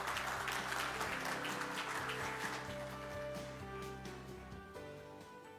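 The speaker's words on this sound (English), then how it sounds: "Let's give him a warm round of applause." Warm audience applause at the TOTAL Awards 2022 ceremony, steady clapping from a large hall that slowly fades over several seconds, with a faint sustained musical tone underneath.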